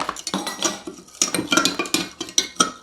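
A utensil stirs a hot herbal magnesium oil mixture in a pot, giving repeated clinks and scrapes against the metal in an irregular rhythm, close and fairly loud, with no talking.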